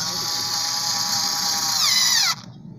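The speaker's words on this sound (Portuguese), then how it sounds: "Aí vamos apertar com a parafusadeira." A cordless power screwdriver tightens a screw on a homemade tire-inflating compressor, a steady high-pitched whirring motor whine that rises and strains near the end before cutting off abruptly, close and loud, with no talk over it.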